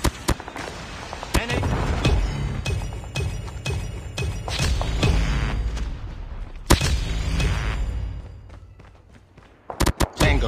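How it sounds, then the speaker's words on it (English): Predator missile strikes and gunfire in the Call of Duty Mobile zombies mode, a string of loud booms and thuds over a dense game soundscape, with sharp blasts near the end. "Predator missile inbound"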